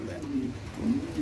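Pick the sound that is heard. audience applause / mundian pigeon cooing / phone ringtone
mundian pigeon cooing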